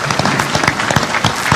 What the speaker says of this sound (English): Let's give all the gubernatorial candidates a round of applause.